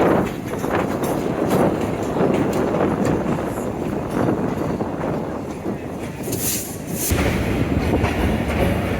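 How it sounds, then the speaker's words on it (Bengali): An express train from Bhairab pulls into Kamalapur railway station in Dhaka, a steady loud rumble of rolling wagons with rhythmic wheel clatter and brief squeals, heard close with no talk. "এখন কমলাপুর রেলওয়ে স্টেশনে ঢুকতেছে ট্রেনটি"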